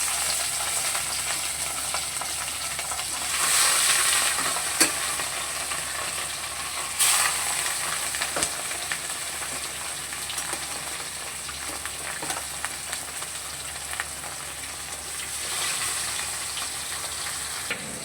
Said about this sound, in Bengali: যতক্ষণ ওখানে মাছটা ভাজা হচ্ছে